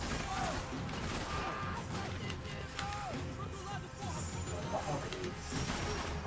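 Gunfire and crashing action sounds from the Max Payne 3 video game play dense and continuous, with bursts of shots amid chaotic impacts and game audio, while someone talks over it.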